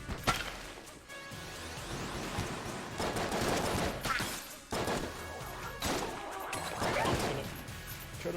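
Dense, continuous volleys of gunfire and bullet impacts in the roguelike shooter game Enter the Gungeon, with loud crashing bursts repeating every second or so across the whole stretch.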